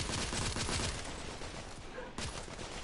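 Gunfire in The Order: 1886 video game, a burst of rapid rattling shots early on that thins into quieter scattered fire, moderately faint, with no speech over it.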